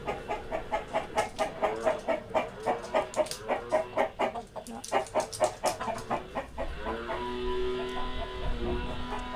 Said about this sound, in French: Ah bah il y en a un autre dedans.